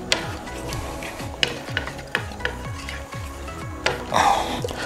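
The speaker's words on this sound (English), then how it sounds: "Keep stirring, scraping the sides." A utensil stirs scrambled eggs in a pan and scrapes the sides, giving a steady run of short rhythmic scrapes roughly twice a second over a soft sizzle, close and clear.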